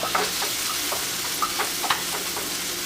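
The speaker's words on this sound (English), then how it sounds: "I want to give this a stir" Shrimp frying in salsa sizzles steadily in a pan as a utensil stirs through it, producing a continuous close hiss with a few brief scraping accents.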